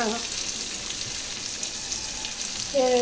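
Onions fry in a pan with a soft, even sizzle, and a brief voice cuts in near the end.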